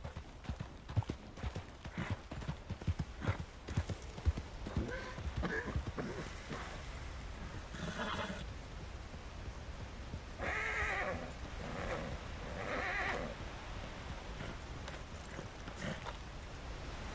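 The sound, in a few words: horse hooves and whinny in RedM video game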